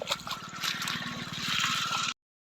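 Floodwater gurgles and trickles through a storm-damaged cotton field, running steadily nearby with a soft bubbling rhythm before cutting off abruptly.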